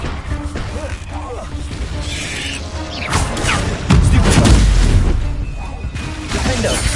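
Fiery blasting spell detonating during a Hogwarts Legacy duel, a loud crashing burst with shattering debris around the middle of the stretch, set among steady combat noise and other spell effects.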